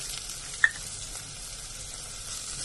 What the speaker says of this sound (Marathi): जरा परतते मसाले